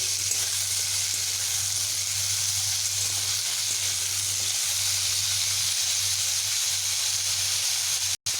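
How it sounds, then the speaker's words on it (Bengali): Pumpkin pieces with black cumin sizzle in a hot pan, a steady hissing fry that holds evenly for several seconds and cuts off abruptly at the very end. "কুমড়োগুলোকে কালো জিরের সঙ্গে আমি এইভাবে মিশিয়ে নেব"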